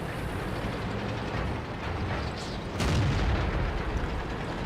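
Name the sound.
tank gun shot in World of Tanks video game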